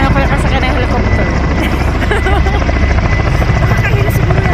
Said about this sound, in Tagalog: Ang laki ng ano, oh, helicopter, oh.